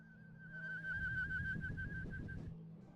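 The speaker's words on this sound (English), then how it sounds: "Meanwhile, I'll whistle." A person whistles a steady sustained tone for about two seconds, slightly wavering in pitch, with faint rustling and room noise underneath.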